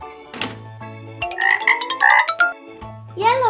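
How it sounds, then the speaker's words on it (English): A frog croaks loudly and close up in a short burst of rapid, rattling calls, with brief low tones before and after. "frog."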